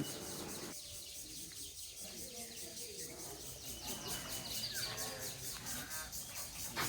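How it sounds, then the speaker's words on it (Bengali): Birds chirp at dawn around a resort with cottages by the water, small calls scattered through steady outdoor background noise and faint rubbing sounds. "ভোরে পাখির এই কিচিরমিচির ডাকগুলো আমার কাছে খুব ভালো লাগে"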